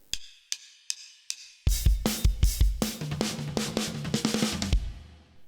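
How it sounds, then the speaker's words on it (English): A drum fill on a drum kit starts with a few sparse, sharp hits, then breaks into a rapid run of loud tom and snare strikes with cymbal wash, played close and alone. "This is my interpretation of this drum fill."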